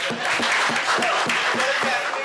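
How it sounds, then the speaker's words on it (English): An audience at an Axis Bank corporate event with Deepika Padukone breaks into applause, a close, steady stream of clapping with rhythmic individual claps standing out throughout the short stretch. "maybe a round of applause, guys. Come on."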